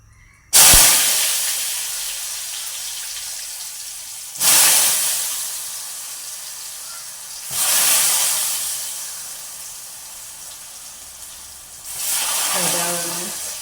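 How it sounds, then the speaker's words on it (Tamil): Loud hissing sizzles of salted soya meat dropped into hot oil, four separate bursts that flare up and slowly fade, close by, with no talking. "சோயா மீட் உப்பு தண்ணியில் போட்டுட்டு அதையுமே வந்து பொரிக்க போகிறேன்"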